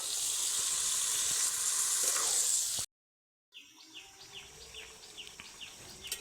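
Washed, drained chicken pieces sizzle loudly in a pan with spices for a Bengali cumin and green chilli chicken dish; a steady hiss runs for about three seconds, cuts out abruptly, then returns fainter with light chirping crackles.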